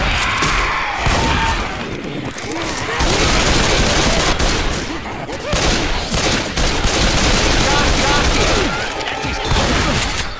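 Loud, continuous automatic gunfire in the co-op zombie shooter Left 4 Dead 2, a dense rattling barrage of overlapping weapons with crashing impacts, nearly unbroken throughout.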